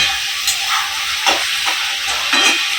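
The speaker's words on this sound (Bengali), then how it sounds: "আলু পেঁয়াজ কলি ভাজা হচ্ছে" Potatoes, onions and onion shoots frying in a pan, a steady close sizzle with occasional stirring scrapes and soft bursts, heard alone with no talk.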